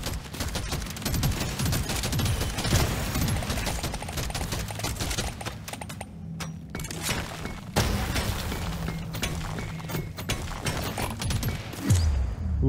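Dense, continuous automatic gunfire and explosions from the Deep Rock Galactic survivor video game rattle on almost without pause, loud and busy with brief dips in between.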